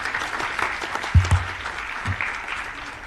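Audience at a student innovation competition event applauds to welcome a speaker, a moderate, steady patter of clapping with a couple of louder thumps standing out partway through.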